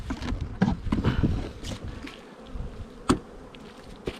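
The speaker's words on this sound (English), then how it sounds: "Oh, now we have lots of bees in here." Honey bees buzzing in an opened beehive during swarm-prevention work, a dense steady hum close by with scattered louder passes and light handling knocks.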